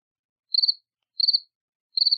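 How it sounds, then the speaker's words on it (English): Crickets chirp in three evenly spaced, high trilling pulses over near silence, each burst short and clear against a quiet night background. "Also hearing crickets."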